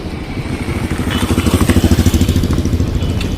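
A scooter rolls at zero throttle, its engine puttering in a low, even pulsing rhythm close by, with no talking.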